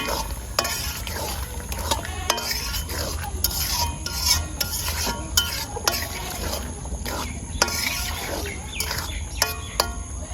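A spoon scrapes and stirs potatoes through beef tripe curry in a pan, repeated sharp metallic clinks and rasping strokes over a steady sizzle.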